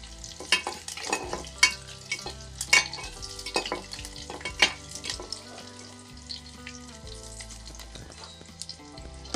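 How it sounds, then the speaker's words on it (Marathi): Garlic and curry leaves fry in a pan for a radish curry, giving a soft, quiet crackle with scattered sharp pops and light stirring taps over several seconds. "लसूण ना आपल्याला थोडासा ब्राऊनच भाजून घ्यायचा आहे"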